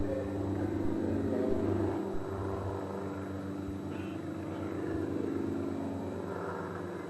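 An aerobatic airplane hangs nose-up at an air show, its propeller engine droning loudly and steadily with slow swells in intensity.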